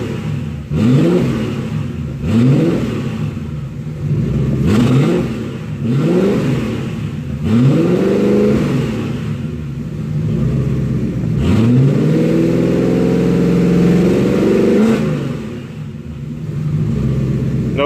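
A car engine fitted with a Holley Sniper EFI system revs repeatedly in sharp blips, each one dropping cleanly back to idle, then holds a longer rising rev before settling; loud, close and with no voices.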